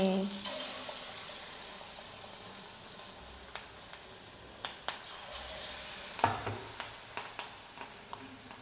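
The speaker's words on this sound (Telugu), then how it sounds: "కలుపుకున్న తర్వాత ఇందులో క్యాప్సికమ్ వేసేసి మనం ఆల్రెడీ కట్ చేసి ఉంచుకున్నాం కదా దాన్ని ఇలా ఆయిల్లో వేసేసుకోవడమే" Chopped capsicum fries in hot oil, with a steady soft sizzle under a series of light clicks and scrapes from a spoon stirring the pan. Faint talking can be heard.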